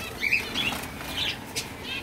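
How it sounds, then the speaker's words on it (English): Pet birds in a house give brief, close flutters of flapping wings in a few separate bursts, with faint high chirps and no voices. "I don't know why we have birds, don't ask."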